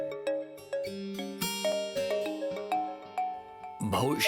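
A phone rings with a melodic electronic ringtone in an indoor office scene, repeating bright chiming notes in a steady rhythm, with a voice cutting in at the end.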